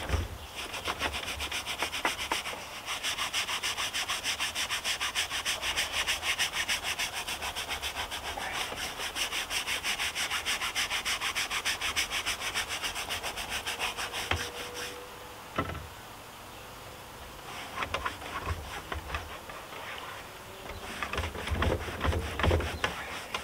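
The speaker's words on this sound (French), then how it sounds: "Je vais prendre une brosse un petit peu plus dure." A stiff brush scrubs a Fiat 500 fabric car seat in fast, continuous rasping strokes for about fifteen seconds, then pauses before several shorter bursts of scrubbing.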